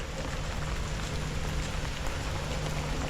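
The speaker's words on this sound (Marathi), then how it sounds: "पाऊस जरा जोरात आला आहे" Heavy pre-monsoon rain pouring in the Konkan countryside, a dense, steady hiss of drops hitting surfaces, constant and enveloping with no voices.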